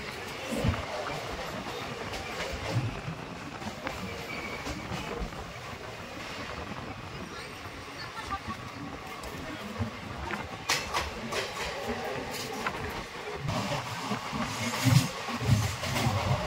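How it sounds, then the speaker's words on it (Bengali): Dhanadhanya Express passenger train rumbling along the tracks, a steady broadband roar with rattling wagon noise and occasional clacks, heard close from on board or beside the line with wind buffeting. "আমাদের ট্রেন ধনাধন্য এক্সপ্রেস রানাঘাট স্টেশন ছেড়ে চলে যাচ্ছে"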